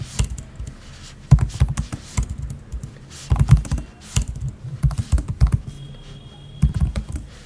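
Rapid typing on a computer keyboard while writing HTML code, with bursts of clicky keystrokes separated by short pauses, close and fairly loud, with no talking.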